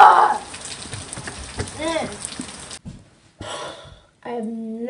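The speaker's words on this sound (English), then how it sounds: "It's raining?" Steady rain patters and hisses for a few seconds, then cuts out abruptly; brief voices and sounds follow in the gaps afterward.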